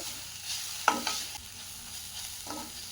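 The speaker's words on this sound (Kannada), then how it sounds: "ಮಸಾಲೆ ಎಲ್ಲ ನೀಟಾಗಿ ಮಿಕ್ಸ್ ಆಗಿಬಿಡಲಿ ಈರುಳ್ಳಿ ಮತ್ತು ಟೊಮ್ಯಾಟೊ ಜೊತೆ" Spices get stirred with onion and tomato in a pan for dal fry: soft continuous sizzling and frying under a few light spoon scrapes and taps, close and quiet, with no talking.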